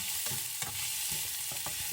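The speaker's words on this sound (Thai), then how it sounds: "แล้วก็จะผัดไปเรื่อย ๆ ค่ะเราไม่ต้องใจร้อน" Food sizzles steadily in a hot pan while a utensil scrapes and tosses it in quick, repeated strokes.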